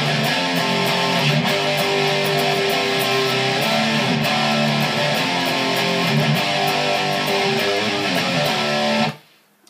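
Guitar strumming the chorus of a song, a dense, loud and continuous chordal sound that rings steadily for several seconds before cutting off abruptly near the end, with no voices.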